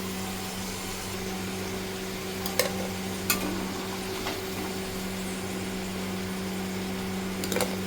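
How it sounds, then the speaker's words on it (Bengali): Potatoes sizzling in hot oil in a home kitchen, a steady low fry with a faint hum and a few sharp clinks of a utensil lifting pieces out, no talking. "আলুগুলো লাল লাল করে ভাজা হয়েই গেছে"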